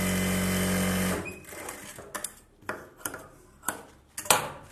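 Sewing machine stitching the lining edge of a Bharatanatyam dance costume: a steady motor run, then a series of short, sharp bursts spaced about half a second to a second apart, close and moderately loud.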